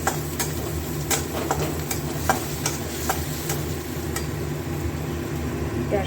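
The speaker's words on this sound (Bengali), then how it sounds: "এবার তেলের মধ্যে দিয়ে দেব কালো জিরে, আর দিয়ে দেব আদা আর কাঁচা লঙ্কা" Black cumin, ginger and green chilli fry in hot oil with a steady sizzle, while a spoon scrapes and stirs in the pan at irregular intervals, close up.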